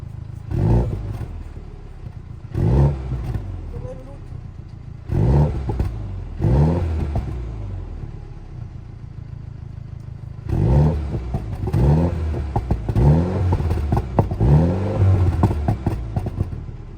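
A Smart car engine revs up from idle in short throttle bursts, a few separate blips followed by a longer run of quick repeated revs, fairly loud and close.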